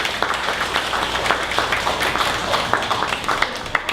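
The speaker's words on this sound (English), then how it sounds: "One more round of applause for Isaiah with being great." An audience applauds at a morning startup pitch event: dense, continuous clapping from a roomful of people, loud and sustained for several seconds with no clear speech over it.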